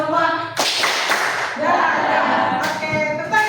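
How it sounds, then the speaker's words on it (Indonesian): A school class sings a cheerful clapping song together, voices carrying a melody while bursts of hand claps break in, close and fairly loud in a classroom. "Kalau kau suka hati tepuk tangan."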